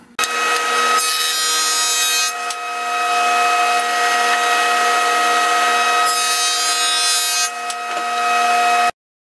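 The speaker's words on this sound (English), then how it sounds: "I'm gonna go put it through the joiner and the planer now and see what we got." An HDPE plastic slab is fed through a jointer and a thickness planer, giving a loud, steady machine whine with two bursts of harsh cutting noise as the slab passes the blades. The motor keeps running between the passes, and nobody speaks.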